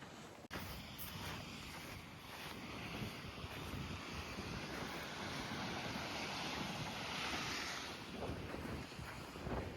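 Waves wash steadily along the Cape Cod shore under gusting wind that buffets the microphone, a continuous rushing roar with no voices.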